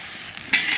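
Whole spices such as bay leaf, dried red chilli and cumin seeds hitting hot oil to temper dal, a brief close burst of sizzling that swells sharply near the end of the short snippet.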